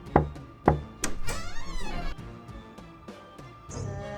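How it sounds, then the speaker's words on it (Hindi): Knocking on a wooden door in a horror story: two sharp, close knocks about half a second apart, followed by a tense musical and ambient soundscape with a few fainter taps. "उसने दरवाजा खटखटाया।"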